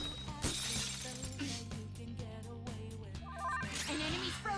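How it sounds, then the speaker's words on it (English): A frozen enemy shatters in one strike in a video game, a bright crystalline burst of breaking ice over busy game music and effects, fairly faint in the mix. "An enemy's frozen! Let's shatter it in one strike!"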